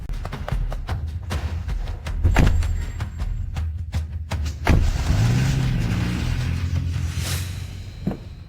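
A car rumbles low and steady while sharp clicks and a few heavy thunks, like doors or fittings, sound over it at irregular intervals.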